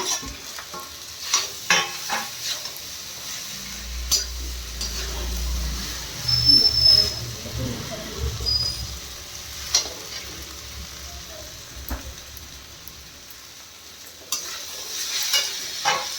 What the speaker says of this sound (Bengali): ভালো করে মিক্স করে নিই আলুটা।